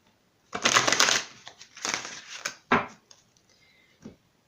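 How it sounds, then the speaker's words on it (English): Quick riffling bursts of tarot cards being shuffled, three or four rapid rustling passes separated by short pauses, close and crisp. "for the second energy card, I'm going to shuffle real quick."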